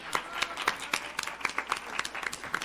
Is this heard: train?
no